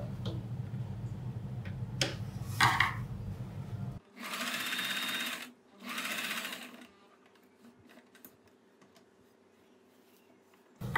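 Sewing machine stitching a kurti neckline, with steady mechanical runs in bursts and brief pauses between them, close and moderately loud, with no talking.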